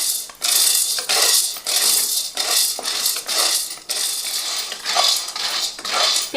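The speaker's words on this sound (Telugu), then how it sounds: "గిన్నె ఇంకా వేడి కాలేదు, ఇప్పుడే కలుపుతున్నా." Sorghum grains are stirred in a dry pot as it heats, making loud, close, rhythmic scraping rattles in repeated strokes, with no talking.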